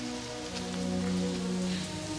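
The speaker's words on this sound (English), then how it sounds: "I wish the rain would stop just once." Rain falling steadily, a constant close hiss of drops on surfaces with low tonal hum beneath and no voices.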